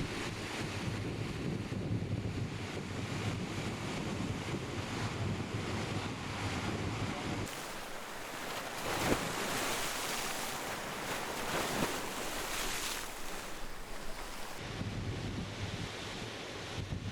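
Sea waves wash steadily along the shore of a Hebridean island, a continuous broad roar of surf with heavy wind buffeting the microphone; the wind gusts drop briefly in the middle before returning, with no voices.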